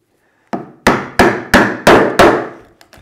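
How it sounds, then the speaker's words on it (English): A chisel driven into a clamped wooden workpiece with a hammer: six loud, evenly spaced, ringing blows, each decaying quickly, then two light taps, close and without talk. "you'll notice the chisel will keep getting deeper with each successive one"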